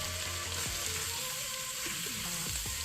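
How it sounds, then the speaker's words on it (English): Flour is stirred into vegetables sizzling in a pan for beef short ribs, a steady close frying hiss with occasional scraping strokes of the stirring spoon, no talking. "Then I'll go in with the flour. Mix that in well also."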